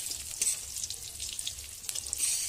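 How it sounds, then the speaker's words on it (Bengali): Close, bright sizzling of cumin seeds and bay leaves frying in a little oil, with light scraping stir sounds and small pops, no talking. "অল্প তেলের মধ্যে দিয়ে দিলাম জিরে এবং তেজপাতা"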